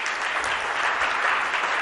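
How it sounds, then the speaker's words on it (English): Audience applause at an advanced computational BIM workshop, a steady dense clapping that fills the whole short moment at moderate loudness with no talk over it. "give them a round of applause too"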